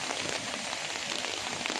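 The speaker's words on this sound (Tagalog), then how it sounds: "umulan talaga" Steady rain patters on a surface, a dense, even hiss with no pauses and no talking.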